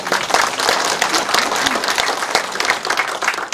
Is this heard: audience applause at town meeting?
yes